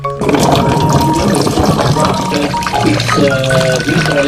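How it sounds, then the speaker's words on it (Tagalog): Chopped ube, cassava and taro are washed in water, a loud, continuous splashing and sloshing close by, with running water and clattering pieces throughout. "Pagkatapos kong hiwain yung obe, balinghoy at saka bundo, bali hugasan nga natin ito ulit."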